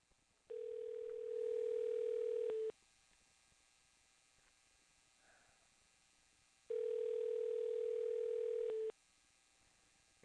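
Two long, steady telephone ringing tones sound a few seconds apart, each lasting about two seconds, with quiet line hiss between them.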